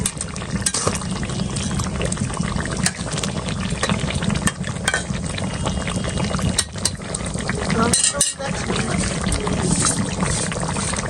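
Fish curry, made with hilsa fish, sizzles and bubbles steadily in a pan, with continuous frying crackle and occasional stirring scrapes while someone talks.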